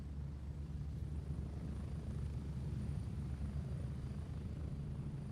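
Helicopter in the video game Gray Zone Warfare, a steady low rotor and engine drone that holds at an even, fairly loud level throughout with no talk over it.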